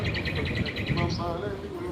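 Recorded birdsong played through loudspeakers on the seaside promenade in Alushta in July: quick repeated chirps and tweets against low outdoor bustle, with a voice murmuring underneath.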